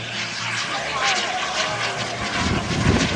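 A radio-controlled model jet aircraft roars past at an airfield, a steady loud turbine whoosh that swells toward the end, with someone commentating over it.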